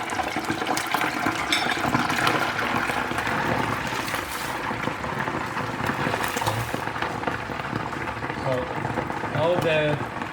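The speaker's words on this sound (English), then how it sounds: "I will deep fry it because I want it nice and crispy" Turkey ham deep frying in oil heated to about 185 degrees, giving a steady, dense sizzle and crackle throughout, with a voice talking over the bubbling.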